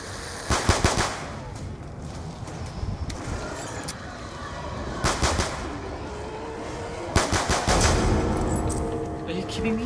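Assault rifle fire in the Call of Duty zombies map Mob of the Dead, with sharp bursts of rapid shots breaking out three times over a steady rumbling game backdrop, loud and close.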